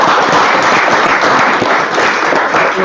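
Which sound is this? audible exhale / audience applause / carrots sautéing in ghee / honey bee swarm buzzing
audience applause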